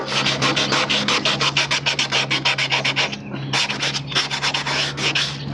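A Honda Transalp rally motorcycle fairing is hand-sanded with 320 grit sandpaper, giving a fast rhythmic rasp of close back-and-forth strokes with a brief pause midway before the strokes resume.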